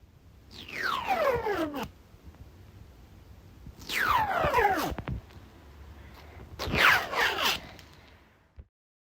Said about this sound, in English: the sound that you just heard was my mom using scissors to make curly ribbon bows